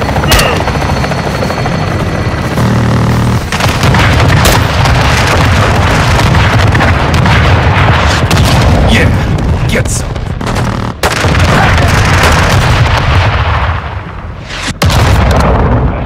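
Air strike explosions hit a building in Call of Duty: Modern Warfare II, with loud rumbling blasts and bursts of gunfire layered over a constant helicopter drone, while voices talk throughout.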